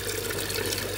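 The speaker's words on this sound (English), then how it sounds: "let's see how water is going to penetrate the overflow pipe" Water flows steadily into the overflow pipe of a homemade recirculating fish tank system, a close, constant rushing and gurgling with no break.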